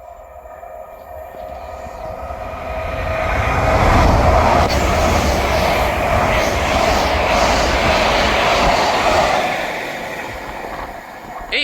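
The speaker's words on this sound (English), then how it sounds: "Passing through now is the 1558 LNER service from Aberdeen to London King's Cross." The 1558 LNER service from Aberdeen to London King's Cross passes through Monifieth station, a loud rumbling roar of wheels and carriages that builds, holds steady for several seconds, then fades, with no talk.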